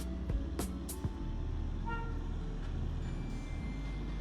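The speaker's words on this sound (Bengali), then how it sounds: "পাহাড়ি সোল হোটেল থেকেই আমাদের টয় ট্রেন যাচ্ছে" Darjeeling's narrow-gauge toy train passes a hillside hotel with a few short horn toots at the start, followed by a steady, low engine rumble at moderate distance.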